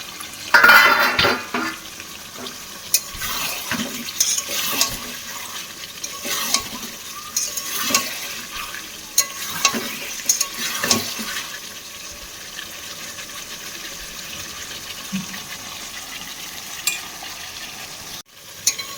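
Potato, soybean and egg sautéed with spices in a pan, a steady sizzle broken by repeated scraping and stirring strokes and clanks of a utensil against the pan, with no voices.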